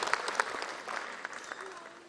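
Applause from the audience at a kavi sammelan poetry gathering in Jammu, a dense, even wash of many hands clapping, moderately faint and continuous, with a few louder claps near the start.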